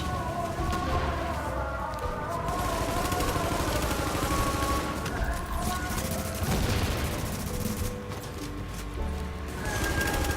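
Dense, sustained gunfire from the third-person shooter Tom Clancy's The Division, with rapid overlapping shots and blasts running continuously over a loud game soundscape.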